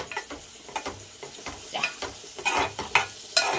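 Ginger garlic paste frying in a pan, soft sizzling beneath short scraping stirs of a spatula, close and moderately quiet, with no talk.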